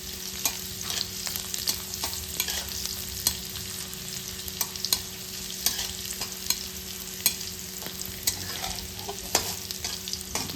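Chopped garlic sizzles in hot oil for a fenugreek dish while a utensil stirs it, scraping and clinking against the pan in irregular strokes over a steady crackling fry.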